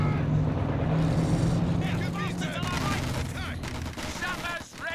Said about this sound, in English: Oh, but just enough damage from the machine guns to finish the job.